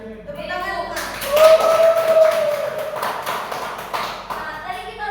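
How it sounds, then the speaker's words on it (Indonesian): Students in a classroom during a microteaching lesson clap in a burst of sharp, fairly close claps lasting a few seconds, with talking before and after and a tonal whistle-like sound mixed in. "Tepuk tangan, bukan?"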